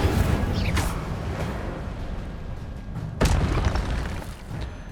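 Incendio fire spell cast in Hogwarts Legacy during combat: a loud whooshing fiery burst opens, a rumbling roar follows, then a second sharp blast strikes near the end, all close and heavy, without voices.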